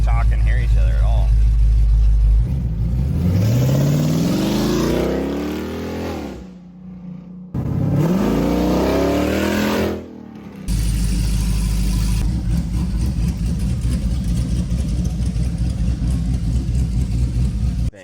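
A 2014 Jeep Grand Cherokee engine rumbles with rising revving sweeps, two abrupt cut-outs, then a steady low idle drone, with people talking over it throughout.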